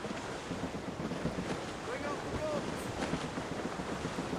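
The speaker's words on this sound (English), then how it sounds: "Wind's getting vicious." Strong wind roars over surging ocean waves around a sailing ship in Assassin's Creed Rogue, a steady, wide wash of gusting air and water with faint creaks rising briefly midway.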